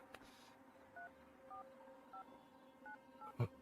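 A series of short two-tone telephone keypad beeps, about six presses spaced irregularly, faint against a quiet room background.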